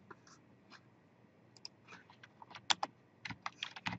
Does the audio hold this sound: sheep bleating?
no